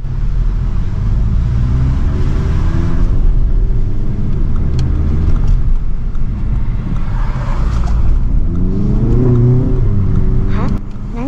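An Audi TT coupe in Dynamic mode accelerates hard up a short highway merge, its engine note climbing through rising revs, dropping at a gearshift and climbing again, loud and close inside the cabin under steady road rumble.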